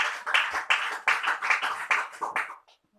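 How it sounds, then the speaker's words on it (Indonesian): A church congregation at a Pentecostal GPdI service claps together in an even, steady rhythm of roughly two to three claps a second, then stops just before the end. "beri tepuk tangan buat Allah kita"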